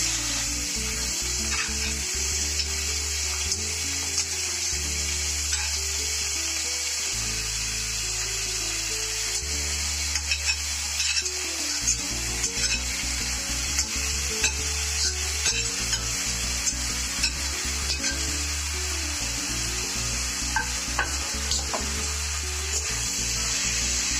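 Raw rice for Basanti polao fried and stirred in a pan, a steady sizzle broken by repeated scraping strokes of the spoon over about twenty-four seconds, with no talking.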